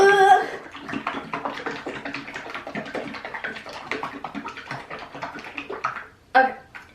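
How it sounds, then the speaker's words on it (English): Bottle of Floetrol paint additive shaken hard, a fast rhythmic run of sloshing, knocking pulses lasting several seconds, ending in a louder final thump. "before opening it up, you have to shake it really well."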